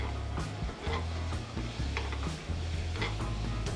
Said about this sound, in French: L'eau du sirop commence à s'évaporer.